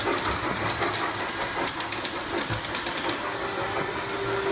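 A G-scale model train rolls along an outdoor display track toward an automatic switch and a station, with a continuous close rumbling run and faint repeated clicks of wheels over rail joints.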